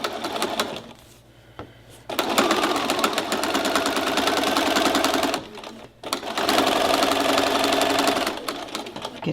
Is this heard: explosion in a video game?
no